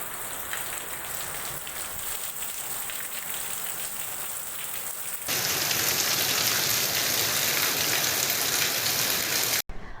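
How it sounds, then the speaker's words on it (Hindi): Continuous rain falls on farm fields, a dense, steady hiss with no voices that grows noticeably louder and fuller partway through before cutting off briefly at the end. "लगातार बारिश हो रही है"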